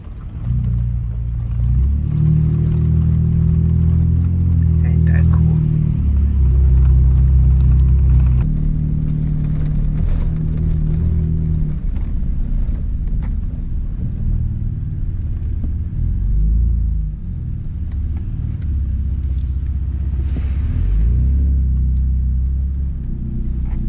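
A 2020 Ford Raptor truck drives a dirt trail, its engine a steady low rumble with a loud, continuous whir throughout, the drone shifting slightly in pitch as it moves along, no voices.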